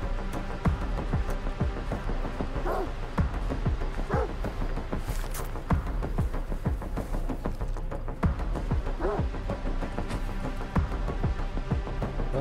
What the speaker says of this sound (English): Get away from me, stupid dogs.